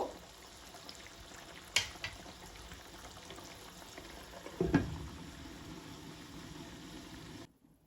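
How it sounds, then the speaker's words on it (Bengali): Beef cooking in a pot over medium heat gives a faint, steady low bubbling hiss, with a couple of brief clunks partway through before it cuts to silence near the end. "দিয়ে আমি এখন মাংসটা পুরোপুরি সিদ্ধ না হওয়া পর্যন্ত রান্না করে নিব"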